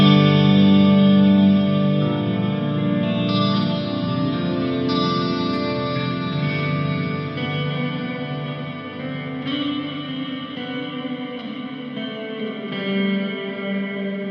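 Guitar played through a reverb effect on a Line 6 HX Effects processor, a sustained, washy tone with long ringing tails and shimmering chords, loud and continuous with no talking.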